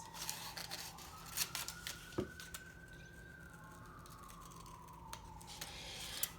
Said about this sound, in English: I'm cutting out my smaller circle